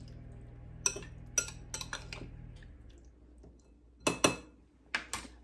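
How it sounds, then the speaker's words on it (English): Utensil stirring tofu in marinade in a dish, a few quiet scattered clinks and scrapes against the dish in two brief clusters, with a soft background hum. "now we're gonna stir this up really good and get it really, really well coated"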